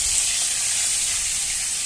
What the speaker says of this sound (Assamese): গৰম হোৱাৰ পাছত আমি তাত তেল দি কুচিয়া মাছখিনি ভাজিম